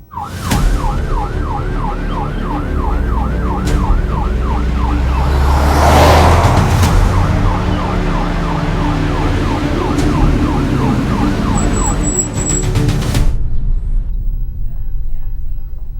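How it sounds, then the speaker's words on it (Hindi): An ambulance siren wails in a fast rising-and-falling cycle that repeats steadily for about twelve seconds, heard among traffic and engine rumble, then cuts off abruptly as a low background hum carries on. "I think we should call for the ambulance."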